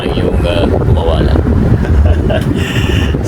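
Strong, steady airflow from a DC electric fan with a faulty speed controller, a loud continuous rushing blast close to the microphone that covers the whole stretch, with a voice talking over it.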